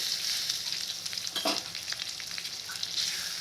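Ridge gourd and milk curry with coriander is stirred in a pan, with soft sizzling throughout and a brief scraping stir in the middle, close and fairly quiet.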